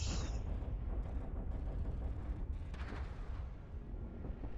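In the game Iron Harvest, artillery cannons fire amid a dense, continuous rumble of battle, heavy low booms rolling over one another with no pause.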